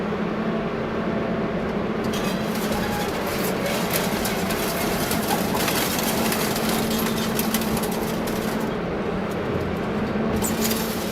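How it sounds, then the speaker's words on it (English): The twin engines of a Moros HP 1000T scrap shredder roar steadily, a loud, continuous, dense mechanical drone with rough grinding texture and no pauses. "Under the slow roar of twin engines, the Moros HP 1000T clamps down on scrap-like jaws of a mechanical beast."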